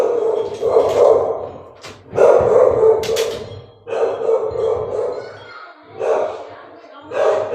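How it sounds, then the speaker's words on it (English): A dog barks in short, loud bursts near the listener, with a few yips mixed in. People talk over and between the barks. "Barking at my son and his friend."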